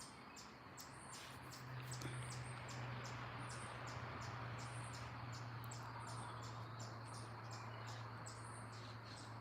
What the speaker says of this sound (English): And you can hear the chipmunk.